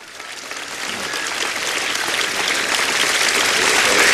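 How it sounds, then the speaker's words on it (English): A capacity tennis crowd at Center Court, Sea Pines Racket Club, applauds a 1977 men's singles final, a steady wash of clapping that swells slightly louder throughout, with no voices over it. "The applause from the capacity crowd here at Center Court, Sea Pines Racket Club"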